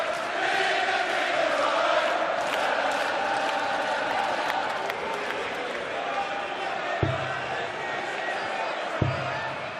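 A roaring arena crowd of about 5,000 at a darts tournament cheers and chants throughout a player's walk-on, with a dense sustained roar, a couple of sharp thuds near the end, and a commentator talking over it.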